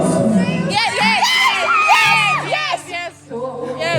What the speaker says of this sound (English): a smaller applause than the other two